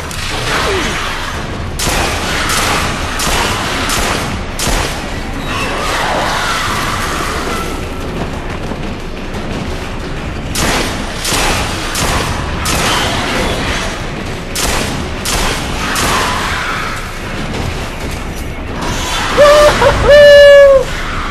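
Repeated rifle shots crack out during a boss fight in Silent Hill Homecoming, loud impacts and booms at irregular intervals over dense game noise and rumbling.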